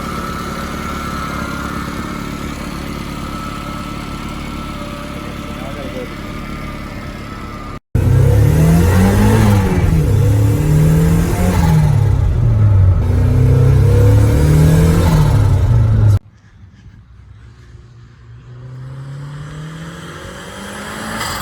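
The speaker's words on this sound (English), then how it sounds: "we just got the car running on the street" A turbocharged Mazda Miata engine on the street idles, then roars loudly as it revs up and down in repeated rising and falling sweeps before cutting back to a quieter rumble; no voices.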